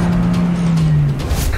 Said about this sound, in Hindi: वो देखो गाड़ी से भाग रहा है।